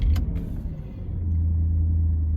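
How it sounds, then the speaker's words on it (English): Low, steady rumble from a Porsche Panamera S V8 idling nearby at moderate volume, with a faint mechanical tick near the start and a deep droning tone holding through the second half. "This is how the Panamera sounds."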